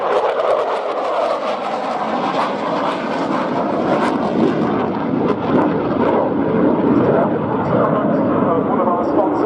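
F-16 fighter jet flying at an air show at RNAS Yeovilton, a loud broad engine roar that holds steady throughout with a public-address commentator talking over it.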